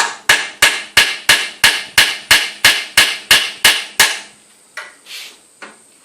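A small punch is struck at the base of a motorcycle head stem with a hammer, twelve sharp metallic blows in an even fast rhythm, then three slower, lighter taps after a pause, close and loud.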